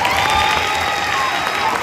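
Loud, dense applause fills a school award ceremony for an eighth-grade honoree, with a crowd clapping steadily and close by and a faint cheer mixed in, no pause in the sound.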